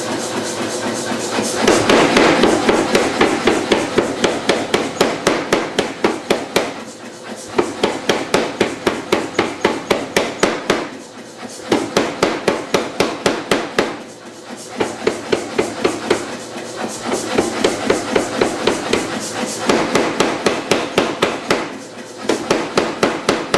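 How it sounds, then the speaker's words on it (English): A power hammer forges steel with rapid, loud, evenly spaced blows in long bursts, pausing briefly every few seconds before resuming the rhythmic pounding. "Now we'll get our hammer running again."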